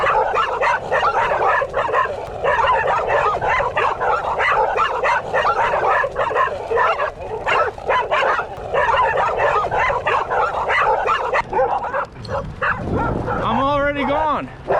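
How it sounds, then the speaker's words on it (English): A pack of yellow Labrador retrievers barks and yips at a passing cyclist on a frontage road, dense overlapping barking close and loud throughout, with a whimpering whine near the end. "a pack of Labrador retrievers ran through their property's fence and onto the frontage road to say hello to me"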